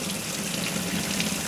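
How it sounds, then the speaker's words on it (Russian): A kitchen tap runs warm water over a carton of frozen milk, a close, steady rushing hiss that continues evenly without pause. "поставить под кран с теплой водой"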